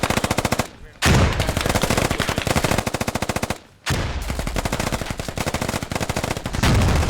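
Dense small-arms gunfire from the video game Squad, rapid automatic bursts filling the scene with two brief gaps, loud and close, with faint voices underneath.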